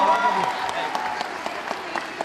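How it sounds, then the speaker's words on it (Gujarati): Scattered clapping rises for a contestant at a Navratri event, the applause coming fairly faint and diffuse beneath a voice and background tones. "તાળીઓથી જરાક વધાવી લેજો."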